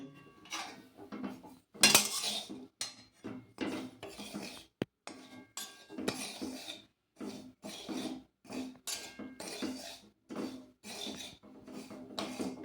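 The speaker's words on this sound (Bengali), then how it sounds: "এই সুজিটাকে এমনি শুকনো কড়ায় আমি নেড়ে নিচ্ছি একটু।" Dry semolina is stirred in a dry wok, a run of close, rhythmic gritty scrapes and rasping strokes of a spatula against the metal, with brief pauses between strokes.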